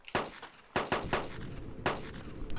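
Gunfire in the DayZ mod of Arma II, several sharp cracking shots in an irregular burst with short echoing tails, close and loud, no talking.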